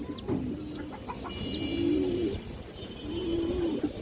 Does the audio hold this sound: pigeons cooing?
yes